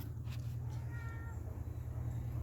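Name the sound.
pet cat Jack meowing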